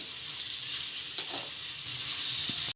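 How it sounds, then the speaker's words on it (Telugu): Prawns coated in chili powder sizzle steadily in a hot pan, a constant close hiss with a few soft stirring clicks, alone with no talk, ending abruptly. "బాగా కొంచెంసేపు ఫ్రై అయిపోతుంది దీన్ని"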